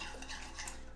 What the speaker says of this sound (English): So we're just going to stir this all up.